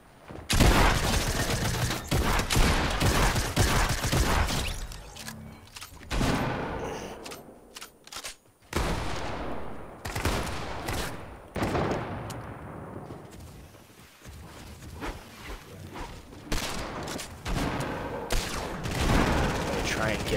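Video game gunfire bursts come in repeated loud volleys over about twenty seconds, with sharp shots, rattling sprays and brief lulls between exchanges.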